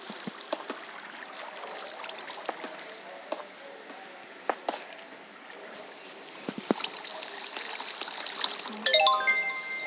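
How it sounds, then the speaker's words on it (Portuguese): Water flows and trickles through a cave in a survival video game, a faint steady stream with scattered drips and clicks, then a brief tinkling chime near the end, while a voice talks softly over it. "Nossa, muita água aqui."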